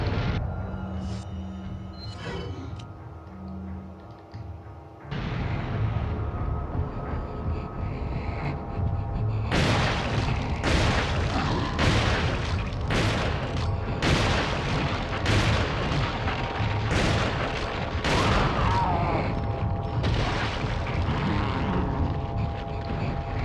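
Resident Evil 4 gameplay with a grenade going off, heavy booms and sharp blasts repeating over a rumbling low drone, loud and dense through the second half.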